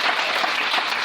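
A church congregation applauding to acclaim the Lord, with dense steady clapping from many hands throughout the brief moment.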